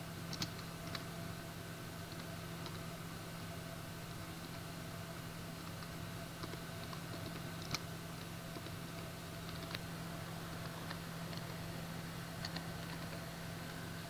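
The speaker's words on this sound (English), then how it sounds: "I am typing" Faint, sparse key clicks from typing on a computer keyboard, scattered irregular taps over a steady low electrical hum in a quiet room, no speech.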